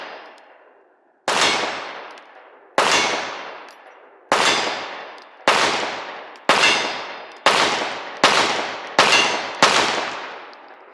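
A Ruger RXM pistol fires MagTech steel-case ammo in eight sharp, loud shots, each with a ringing decay, spaced slowly at first and then quickening into a faster cadence.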